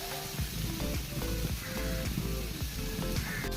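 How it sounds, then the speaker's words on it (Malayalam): Fried karimeen pieces go into a boiling coconut milk curry in a pan, producing a steady, nearby sizzle with soft bubbling and faint stirring sounds throughout. "നമുക്ക് ഈ സമയം വറുത്ത് വെച്ചിരിക്കുന്ന മീനുകൾ ഇട്ട് കൊടുക്കാം."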